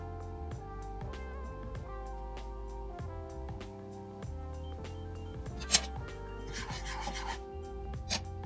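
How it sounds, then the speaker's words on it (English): A spoon stirs boiling flaxseed gel in a pot, giving faint scraping and rubbing strokes against the pot over steady background music. "Right now, we'll stir this around a little bit and let it boil."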